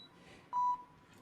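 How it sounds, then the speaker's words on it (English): A single steady electronic beep sounds for about a quarter second in a Cyberpunk-style video game scene, clear and close over a faint ambient hum. "You see lights blinking, noises going off here, and yeah, some of these kind of beeping around you"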